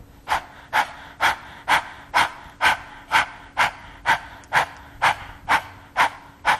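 Breath of fire from Kundalini yoga, done as rapid panting with the tongue stuck all the way out: about fourteen sharp, evenly spaced breaths at a steady rhythm, close and clear with no talking.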